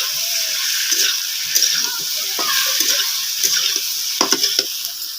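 Fish curry cooks in a pan over a steady, loud sizzling hiss, with intermittent scraping and stirring clatters close by.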